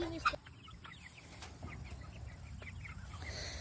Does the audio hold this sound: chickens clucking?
yes